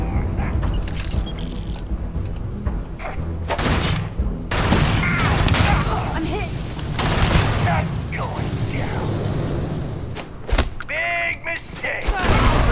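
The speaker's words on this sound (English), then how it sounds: "I accidentally threw a grenade, bro." Grenade blast and bursts of gunfire in the video game Starfield, loud broadband booms and rapid cracking shots repeating across the scene, with a sharp explosion near the end over dense combat noise and some voice.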